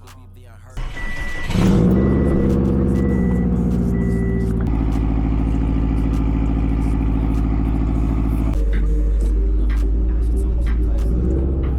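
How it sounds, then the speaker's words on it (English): A Subaru WRX making 350 horsepower, fitted with a Tomei titanium exhaust, fires up with a sharp crank and settles into a loud, deep, burbling idle close by, with a few high beeps chiming early on. "I think it's the best sounding exhaust for the Subaru WRX."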